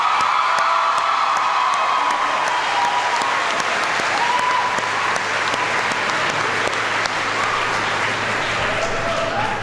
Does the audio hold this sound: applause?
yes